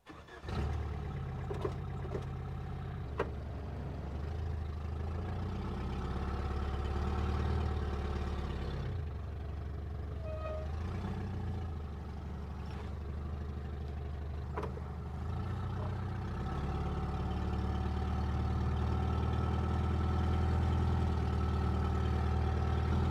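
A 1973 Toyota Hilux engine runs while driving, a rough, uneven low rumble heard from inside the small cab, steady throughout with occasional clunks and knocks.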